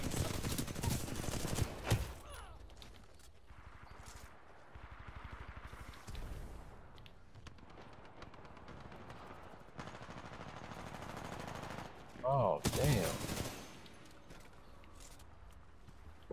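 Gunfire in Titanfall 2 multiplayer: bursts of rapid shots crack near and far across the match, with footsteps and quieter stretches between volleys.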